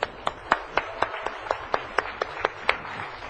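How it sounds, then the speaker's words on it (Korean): Applause from a church congregation, thanking a deacon, comes as a slow, evenly spaced series of about a dozen sharp claps, sounding like a small group clapping in unison at a moderate distance, with no talking. "최 집사님 좀 보고 박수를 쳐요"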